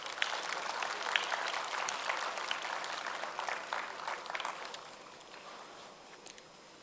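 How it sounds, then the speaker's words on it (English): An audience at a global food regulators summit gives a round of applause, a broad, even wash of clapping that holds steady then thins and fades toward the end, heard at moderate distance. "we need to have a round of applause for them."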